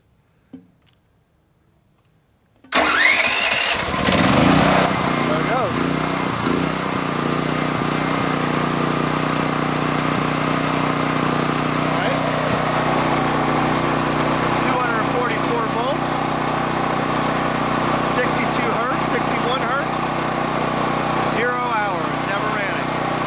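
A DuroMax XP13000EH hybrid dual fuel generator fires up after a brief quiet moment and settles into a loud, steady engine drone that runs close by for the rest of the time, with a voice talking faintly under it.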